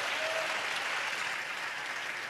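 Congregation clapping hands in praise during a church service, dense continuous applause from many people, steady and moderately loud, with faint voices beneath.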